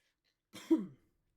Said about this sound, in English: I need to mute my mic when I cough very loudly